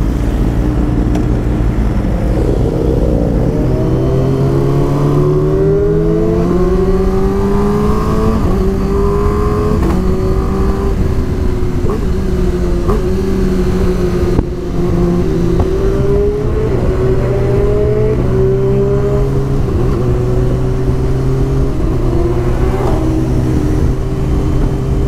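A group of five to eight motorcycles rides together on a road, engines droning loudly and continuously with rising and falling revs as the bikes accelerate and shift, close by and steady throughout.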